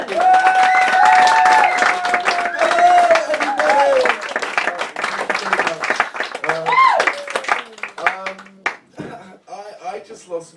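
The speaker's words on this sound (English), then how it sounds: "So massive round of applause for Ernie Burns!" An audience applauds at a poetry book launch with dense, loud clapping, which thins toward the end. Voices and cheers rise over it.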